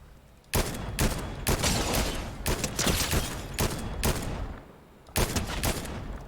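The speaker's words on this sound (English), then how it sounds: "Try and shoot this guy." Repeated bursts of gunfire in Fortnite no-build mode, a run of loud broadband volleys separated by short pauses, with a final burst after a brief lull near the end.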